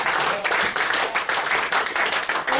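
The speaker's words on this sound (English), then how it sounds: "Give her a round of applause as she goes back to the audience." A live comedy show audience gives a loud, dense round of applause, continuous clapping close by for the whole span.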